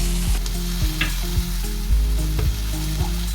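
Masala sautéing in oil with its oil separating, for pomfret fish baked in banana leaf; a steady loud sizzle up close, broken by regular scraping stirs roughly every half second.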